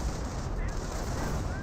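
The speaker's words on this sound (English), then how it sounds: "Another barrage ran in." Artillery barrage in Company of Heroes, a dense rumbling run of overlapping blasts and gunfire filling the moment, loud and continuous without pause.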